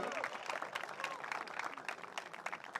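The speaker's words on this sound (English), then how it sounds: "A huge round of applause for Aro" At a graduation ceremony the audience gives Aro a round of applause, dense crisp clapping with sharp individual hand strikes throughout, and a voice briefly audible among it.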